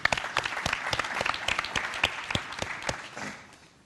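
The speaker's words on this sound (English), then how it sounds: "round of applause for David." Audience applause rings out for a panelist at a sales industry conference, a dense burst of many hands clapping that tapers off toward the end, with no talk over it.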